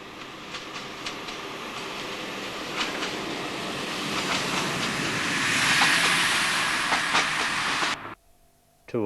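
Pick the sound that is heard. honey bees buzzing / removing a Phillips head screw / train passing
train passing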